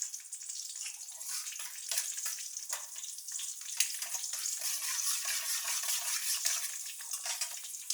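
Mustard seeds and urad dal frying in hot oil: a bright, hissing sizzle with scattered crackles and pops, heard up close and continuous for the whole stretch with no voices.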